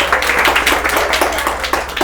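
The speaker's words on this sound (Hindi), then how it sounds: "इनके लिए तालियां होनी चाहिए" Students clapping in a classroom during a Hindi lesson, a steady burst of dense applause from a group that runs the whole moment with no gaps.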